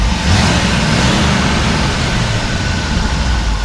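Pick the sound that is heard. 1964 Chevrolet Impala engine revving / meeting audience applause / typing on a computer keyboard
1964 Chevrolet Impala engine revving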